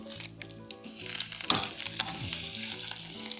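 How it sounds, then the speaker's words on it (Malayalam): Dried red chillies go into hot oil with already popped mustard seeds, setting off a sudden crackling sizzle with sharp pops and a brief stir, close and fairly loud, over some background music and with no talking. "കടുക് പൊട്ടി കഴിഞ്ഞു. അതിലേക്ക് വറ്റൽ മുളകിടുന്നു."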